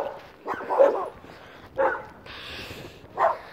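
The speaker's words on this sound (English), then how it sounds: "Oh, look at those beautiful dogs." Dogs bark in three separate bursts, moderately close, with quiet gaps between them and no talking over the barks.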